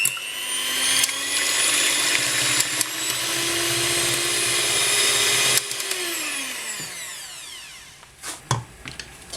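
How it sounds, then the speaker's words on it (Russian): An electric mixer whips egg whites at close range with a loud, steady whine that rises in pitch as the beaters speed up, then slows and winds down near the end, followed by a few brief clattering knocks. "Белки взбиваем в последнюю очередь, чтобы они не опали."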